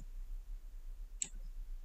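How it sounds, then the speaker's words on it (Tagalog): A single sharp, close click comes from pressing a key combination on a computer keyboard, the Windows key plus R, against a quiet background hum. "press mo lang yung Windows key plus letter R"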